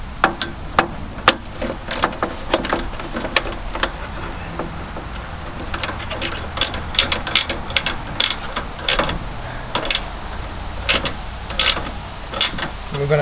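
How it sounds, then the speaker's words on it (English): Loose bolts on a metal frame being tightened, close rapid ratcheting clicks and metallic taps in uneven bursts, fairly loud, with faint background noise. "We're going to tighten everything up here because the whole frame here I think is loose."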